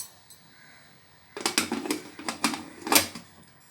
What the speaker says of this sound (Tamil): குக்கரை க்ளோஸ் பண்ணிவிட்டு வெயிட் போட்டாச்சுங்க